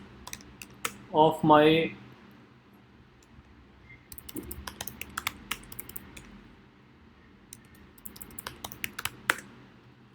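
Clicky keystrokes on a computer keyboard as a sudo command is typed, coming in quick irregular bursts across the span after a short spoken phrase near the start.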